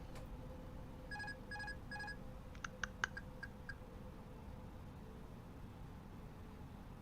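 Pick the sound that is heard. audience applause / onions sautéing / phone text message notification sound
phone text message notification sound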